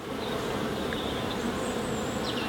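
Honey bees swarm densely on an open hive frame, a thick continuous buzz filling the air at close range, with a few individual bees droning past.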